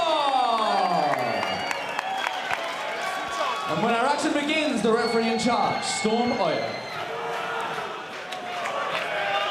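Crowd at an Eternal MMA event roaring and cheering loudly and continuously as fighter Alan Philpott is introduced, with an announcer speaking over the noise throughout.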